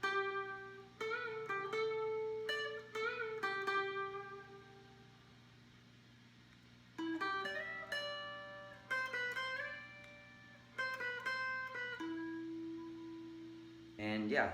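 Full solo section on guitar: clusters of picked and bent notes in two phrases separated by a long ringing sustain, ending on a held low note, close and unaccompanied.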